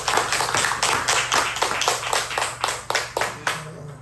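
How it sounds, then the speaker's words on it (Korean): A church congregation claps in unison during worship, a regular, evenly spaced beat of hand claps over a low steady hum, thinning out and stopping near the end. "하나님께 영광 돌리는 박수를 한번 드리겠습니다"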